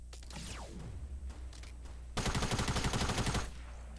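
A minigun fires in a video game: a descending whirring spin-up, then a loud, rapid, evenly spaced stream of shots lasting over a second, near and dominant, with no talk.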